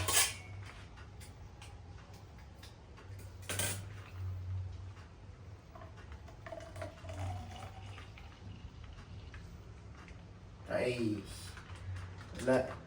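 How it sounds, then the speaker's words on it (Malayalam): A spoon stirs cold milk into a drink, giving a few sharp clinks against the glass between softer swirling, faint and mostly under ongoing talk. "പാല് മിക്സ് ചെയ്ത് നോക്കാം."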